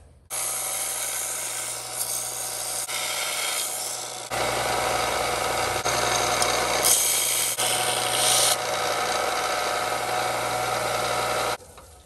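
Continuous abrasive sanding on a metal bracket blank, a harsh gritty rasp with a low motor hum underneath, steady and close, shifting in pitch a few times.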